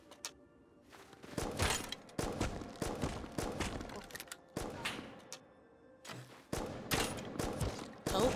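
Gunfire from a shooter in Rust during a raid on a base. Several separate bursts of loud shots come at irregular intervals, each decaying into echo, with quiet gaps between them.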